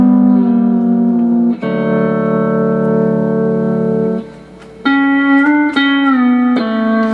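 Pedal steel guitar played as a multi-pivoting run, with strings 7, 8 and 10 struck together while the 8th string is lowered, giving sustained chords that bend and shift in several clear steps, loud and close with no talk.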